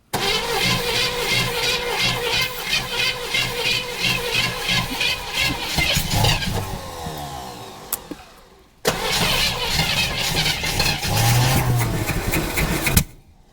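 A 1976 Chevrolet Nova, unused for 35 years, cranks loudly on its starter with a rapid mechanical churn, cuts out near the eight-second mark, then grinds again until the end, with no clear catch into an idle.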